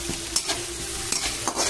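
Onion and tomato frying in a pan, a soft continuous sizzle broken by a few sharp scraping stirs of a spoon, quiet and close with no voices.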